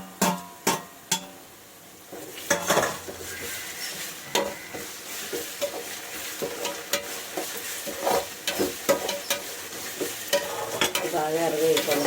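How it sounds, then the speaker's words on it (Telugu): Masala spices frying in a pan, giving a steady sizzle broken by repeated scraping stirs and the occasional knock of a spoon against the pan, close and fairly loud, with no talking. "బాగా ఎరగేసుకోవాలి మసాలా"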